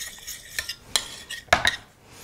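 Red wine sauce spooned over a plated steak on mushrooms in a restaurant kitchen: light clinks and scrapes of a spoon against the plate, a few sharp taps close by, with soft wet spooning between.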